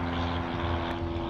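A Boeing 777 touching down on the runway at Boeing Field in Seattle, a steady loud engine roar with a constant tonal hum and no voices.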